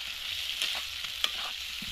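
Fried potatoes go into a spice masala sizzling in hot oil for aloo dum, raising a steady close crackle and hiss with a few sharp pops and stirring knocks. No one speaks.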